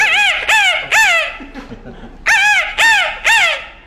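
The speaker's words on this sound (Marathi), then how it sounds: "अशा पद्धतीने हा कोंबडा आहे" A rooster crows in loud, harsh bursts close by: three quick calls, a short pause with low murmuring, then three more.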